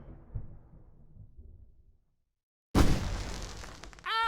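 A sudden loud firework explosion booms in Alan Wake Remastered after a brief silence, followed by crackling debris and rising whistles near the end.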